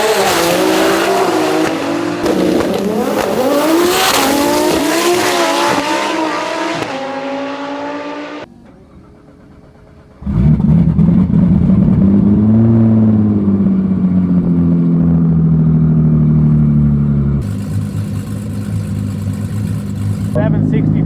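Loud drag racing engines from a 2000+ hp Nissan GT-R launch, roaring and screaming at high revs with tires squealing, followed by a brief lull and another sustained roaring run, with voices underneath.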